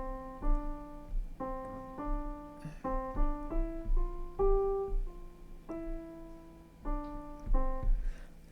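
Piano notes played legato, smooth and connected, in a slow, simple beginner melody, each tone flowing into the next with no gaps, clear and alone in a quiet room.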